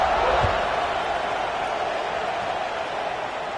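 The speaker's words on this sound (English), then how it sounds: "this crowd is buzzing after that last score." A football stadium crowd at a college game buzzes steadily as a broad, even roar of many distant voices, holding constant without sharp cheers or peaks.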